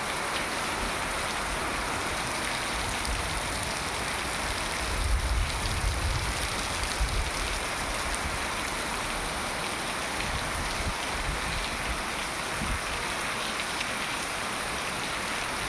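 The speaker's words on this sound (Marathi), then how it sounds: "असा अंधार केला आहे पावसाने ढग जमले आहेत" Monsoon rain pours steadily in Devgad in the Konkan region, a dense, even hiss of falling water that holds without a break throughout, with no voices.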